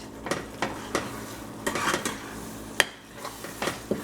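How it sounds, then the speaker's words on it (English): A spoon stirs two spoonfuls of tomato paste into a mushroom curry with leeks, onions, ginger and garlic in a pot, making irregular scrapes and sharp clinks against the metal over a low sizzle. "we're going to add a good amount of tomato paste in this recipe. Okay, so 1 spoon, 2 spoon, and I'm going to mix it."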